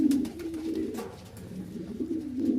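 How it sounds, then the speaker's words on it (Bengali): Pigeons coo steadily and close by in a coop at a pigeon farm in Rajshahi, where breeding pairs sit on eggs; the low, rolling calls run nearly unbroken with no talk. "এখানে আরও এক পেয়ার কবুতর দেখতে পাচ্ছেন।"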